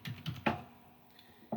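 Keystrokes on a computer keyboard while typing text into a sticky note, a few soft clicks in two small clusters with a quiet gap between, close and fairly faint.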